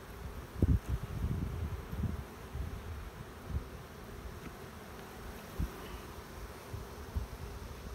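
Honeybees buzz around an open hive on a golf course, a steady low drone with soft bumps and rustles from the hive being worked, close by and with no talk.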